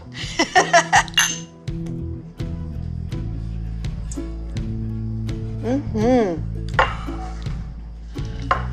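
Glasses clink together in a celebratory toast at an event featuring blacksmith Elizabeth Brim, sharp ringing chimes arriving in a quick cluster early on and again later, amid background chatter and clatter.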